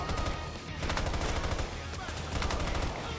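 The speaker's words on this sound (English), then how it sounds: "you just hip fire" Rapid hip-fire gunshots from a weapon in the shooter game Payday 3, loud dense bursts of automatic fire with brief gaps, up close and continuous throughout.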